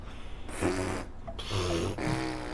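A person imitates a fart with the mouth, producing a few short buzzing, sputtering blasts in quick succession, close and fairly quiet.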